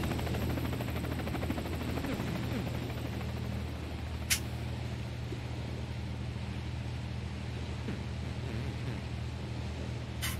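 Video game helicopter from The Escapists 2 flying off, a steady low rotor drone and engine hum holding even and constant, with one brief sharp click partway through.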